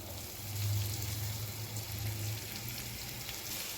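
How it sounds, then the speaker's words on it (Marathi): Onion sautéing in oil for a village-style satal recipe, a steady close sizzle and crackle with a low hum underneath. "कांदा व्यवस्थित परतवला गेलेला तेलामध्ये"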